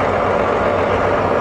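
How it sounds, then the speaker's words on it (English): Farm tractor from Rovers Farm rolling past in a memorial parade in Chazy, a loud, steady engine rumble up close with no break or pause. "this looks like one of the tractors from Dutch Rovers"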